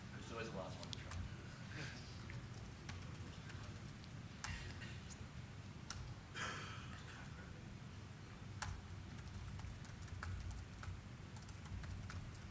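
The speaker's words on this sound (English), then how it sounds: "That's some good fast typing under pressure" Fast typing on a computer keyboard ticks along at a conference talk, light scattered key clicks mixed with hall murmur and some speech underneath, fairly faint and distant.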